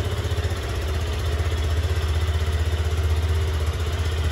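A 2023 Yamaha Crosser motorcycle engine idles close by with a steady, low, throbbing rumble and faint mechanical clatter, running evenly throughout with no voices.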